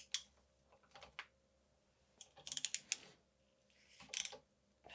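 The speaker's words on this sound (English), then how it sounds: "Let's unscrew it and see what happens." The top cap of a 2021 Fox Factory Float 34 FIT4 mountain bike fork, a 26mm chamferless cap, is unscrewed with a ratcheting tool, giving faint, close clicking bursts and scattered small metallic ticks between quiet pauses.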